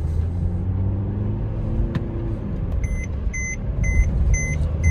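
A Mercedes C-Class car on a test drive: a low, steady engine and road rumble heard from inside, joined partway through by a repeating electronic warning beep from the dashboard, with no talk.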